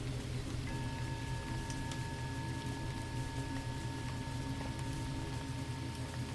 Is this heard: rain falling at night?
yes